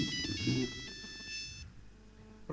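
A mobile phone ringtone plays a bright, repeating electronic melody for about a second and a half, then cuts off, leaving faint room noise. It is fairly loud and sounds nearby.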